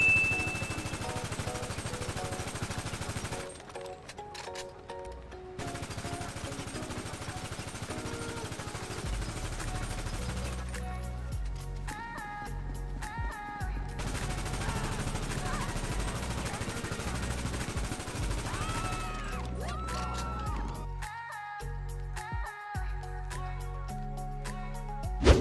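AK-47 assault rifle fire in a top-down shooter game, with repeated rapid automatic bursts separated by pauses, loud and close over a steady background music bed.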